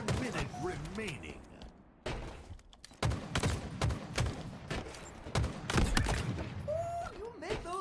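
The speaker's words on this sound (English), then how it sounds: "you make those bullets sing, Spartan" Gunfire in a Halo video game, repeated sharp bursts and thuds amid game sounds, with a voice speaking intermittently over the shooting.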